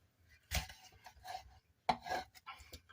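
A knife cuts through the hip joint of a whole raw chicken being broken down for frying, giving close, short crunching and scraping strokes in two bursts.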